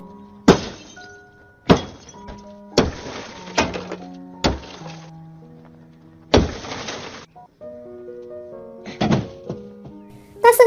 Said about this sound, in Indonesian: amarahnya memuncak dan menghancurkan mobil kesayangan ayah itu.